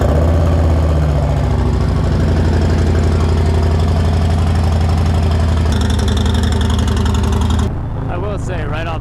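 A Harley-Davidson Road Glide ST motorcycle engine runs loud and steady as the bike is ridden, a deep continuous rumble with a brief dip near the end, and a voice talks over it.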